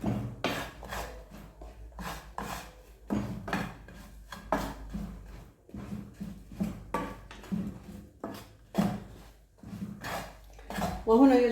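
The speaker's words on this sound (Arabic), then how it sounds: "نخلط." Utensil scraping and knocking inside a pot while a thickening peanut coating mixture is stirred, a steady run of close rhythmic scrapes and clinks at moderate volume with no talk.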